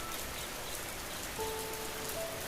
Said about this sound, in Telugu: ఆ సంవత్సరం వానలు విపరీతంగా కురిశాయి.